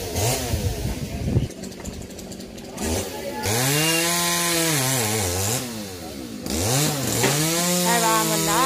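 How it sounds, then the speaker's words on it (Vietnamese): A chainsaw cutting a branch from an old bodhi tree at a temple, the engine revving in long rising and falling whines with brief idle dips between cuts. "lòn dây ở đây để cưa ngang phần này nha quý vị."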